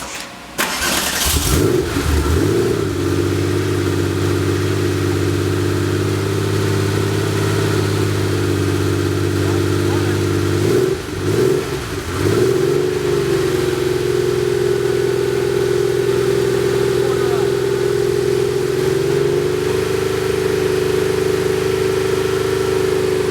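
A 3.8 engine's first startup: it cranks and catches, revs briefly, stumbles once, then settles into a steady, loud idle that runs on.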